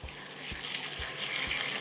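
Water is poured into a hot cooking pan of banana flower with rice and milk, giving a brief close splashing hiss with soft sizzling underneath.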